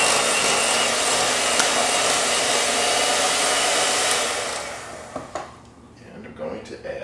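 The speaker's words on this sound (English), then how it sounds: "Turn the mixer a little" An electric mixer whirs steadily, mashing potatoes into a paste, then slows and stops, leaving scattered clinks and faint sounds.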